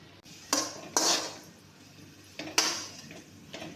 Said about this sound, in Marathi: आता आपण कोथिंबीर मिक्स करणार आहोत।